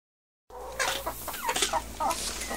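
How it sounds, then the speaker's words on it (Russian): Hens clucking inside a greenhouse where the birds overwinter, several overlapping cackles and clucks close by over a low steady hum, with no talk. "как они тут кокают, кокочут, кудахчут"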